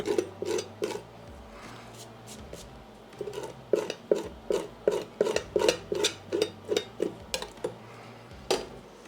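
A utensil scrapes seasoned chicken thighs flat in a pan during a barbecue cook, giving a run of short rhythmic rasping strokes, some spaced and some rapid, close and moderately loud, with no talking.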